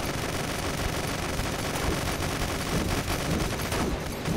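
A laser gun fires in a video game, dense continuous rapid bursts forming a loud, steady barrage that runs the whole stretch without letup.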